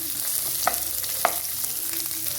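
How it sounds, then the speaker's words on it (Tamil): Chopped onions sauté in a pan for chicken curry, a close, constant sizzle with a couple of quick spatula scrapes. "வெட்டி வச்சுருந்த வெங்காயத்தை சேர்த்துக்கொள்வோம். நல்லா இதை வதக்கி விடுவோம்."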